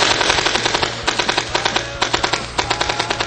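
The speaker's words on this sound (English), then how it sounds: "an old school technique of high rate of firepower is called fanning the trigger" A gun fired rapidly by fanning the trigger, a loud close burst of dense, evenly spaced shots in quick rhythmic succession, alone without talk.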